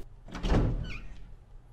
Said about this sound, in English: the door opening animations are an excellent opportunity to look at the chat